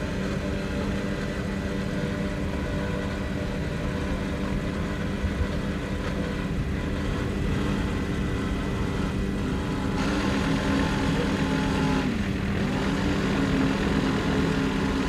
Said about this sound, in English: Cat Can Do, powered by a pair of 750 horsepower Baker inboards.